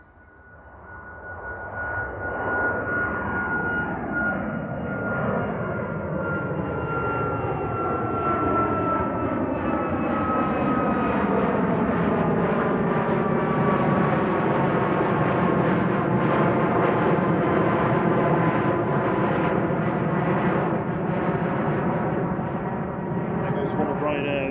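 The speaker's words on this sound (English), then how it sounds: "One of Ryanair's 737 MAX 8200s, that's EIIFX, heading back to Malaga in Spain." Ryanair Boeing 737 MAX 8-200 jet departing Manchester Airport for Malaga, a loud sustained engine roar swelling as it takes off, with a whining tone and steady rumble throughout.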